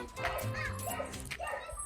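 Several dogs yip and whimper close by outdoors, mixed with people talking over them.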